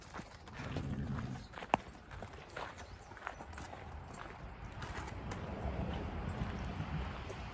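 Hooves clop at an unhurried walking pace on a hard surface, fairly close, with faint ambient noise around them.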